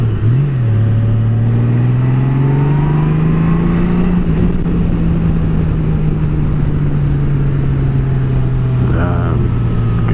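A 2019 Honda Goldwing motorcycle accelerates on the road; its engine note climbs and then holds a loud, steady drone close by, with constant wind rush and faint voices underneath.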